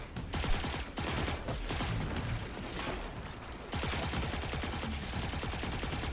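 Rapid bursts of automatic gunfire in the Destiny 2 video game during a Grandmaster activity against Fallen enemies, dense, loud and continuous with brief gaps between volleys.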